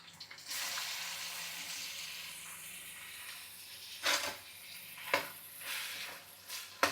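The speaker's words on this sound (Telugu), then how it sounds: "చికెన్ ముందు వేపుకోవడం, బోన్లెస్ చికెన్ వేపేసుకుందాం" Boneless chicken fries in hot oil with a broad, steady hiss. A few sharper crackles and spatters pop out near the end, close but fairly soft.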